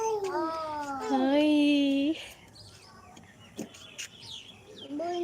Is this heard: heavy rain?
no